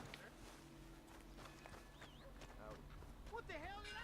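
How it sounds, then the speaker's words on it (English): Horse hooves clip-clopping in Red Dead Redemption, quiet rhythmic steps running under game characters' speech and shouting, with a faint whinny near the end. "Hey! My horse!"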